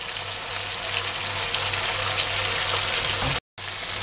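An egg cooks in a pan with a steady, close sizzle and crackle that holds for about three and a half seconds, breaks off for a moment, then resumes.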